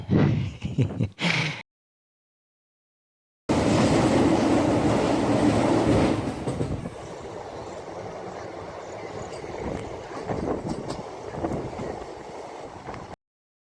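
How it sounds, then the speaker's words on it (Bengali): A train rumbles loudly nearby with a steady, broad roar that settles into a quieter, continuous hum, after a brief burst and a stretch of silence. "স্টেশনে এসে দেখি আমার জন্য ট্রেন ওয়েট করছে"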